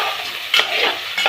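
A paste of mint, green chili and coriander fries in oil for a homemade chicken biryani, giving a steady close sizzle with a few louder stirring scrapes.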